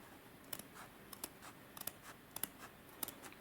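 Scissors snip through coat fabric while a single welt pocket is being cut open, a series of close, crisp clicking cuts in irregular bursts, quiet overall with no talking.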